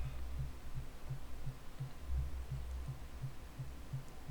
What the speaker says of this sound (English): You can hear my heartbeat is starting to go faster